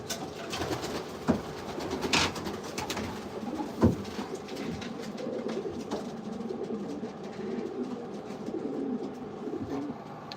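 Pigeons coo steadily inside a breeder loft, soft low throaty calls overlapping continuously at close range, with a few brief louder bumps and rustles in between.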